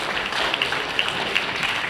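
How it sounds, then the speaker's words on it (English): An indoor business seminar audience applauds, a steady wash of many hands clapping at moderate volume, sustained for about two seconds with no talk over it. "A big applause to all of them,"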